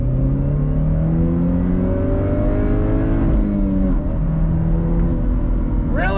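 A 2022 Chevrolet Camaro LS engine pulls hard in second gear from a slow roll, its rising engine note climbing steadily and loud from inside the car, easing off near the end, with no talking.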